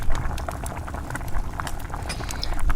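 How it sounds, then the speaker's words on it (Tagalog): Water at a rolling boil bubbles and crackles steadily in a pot with chicken breast simmering inside, a continuous close, dense gurgling with no voices. "Pababayaan lamang po natin itong patuloy magbulakan hanggang sa lumambot ang ating chicken breast"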